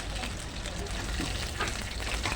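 Dried fish sizzling in a frying pan, a steady close crackle and hiss throughout with no pauses.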